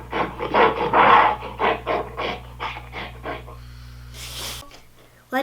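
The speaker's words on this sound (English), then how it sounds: "Here's what an ape sounds like." An ape's run of rhythmic, breathy grunts and snorts, about a dozen pulses in quick succession, fairly close, trailing off into a sharp exhale.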